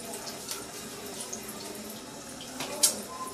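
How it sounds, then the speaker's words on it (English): Water running from a tap at a bathroom sink during a shavette shave, a steady faint hiss with a brief louder splash near the end as water is added to the face. "I'm gonna have to add some water to my face because my lather is drying"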